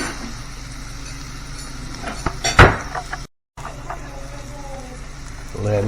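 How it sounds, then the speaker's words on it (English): A pan of apples in oil on the stove gets a quick flip, a brief metallic clatter over steady sizzling, with a calm voice talking. "Give our pan a little flip to get the oil all over the apples."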